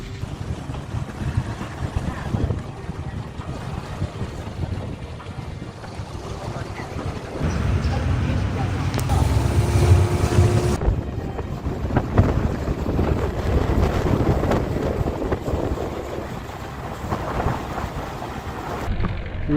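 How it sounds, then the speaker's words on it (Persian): A boat on the Dez river rumbles along with a steady low engine drone, wind buffeting the microphone and water washing past, loud and continuous. "قایقی که باید سوارشیم."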